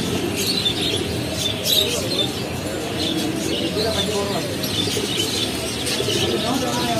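Pigeons in a pigeon shop coo and chirp in a steady, busy chorus that fills the background, with a person talking over the birds.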